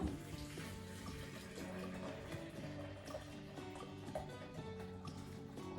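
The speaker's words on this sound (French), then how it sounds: "je mets l'équivalent de 2 tasses d'eau chaude dans le blender" Hot water pours steadily into a blender jug for chocolate preparation, a continuous splashing stream lasting several seconds under a tonal background.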